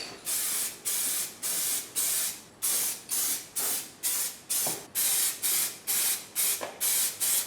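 Rapid bursts of spray paint coat car engine brackets during an MR2 build, a close, steady rhythm of about fourteen short hissing blasts with brief gaps between them and no voices.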